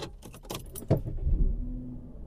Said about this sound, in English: Okay, now let's turn on the vehicle.